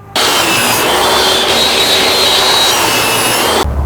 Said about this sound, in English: rip my pieces of wood down to the proper width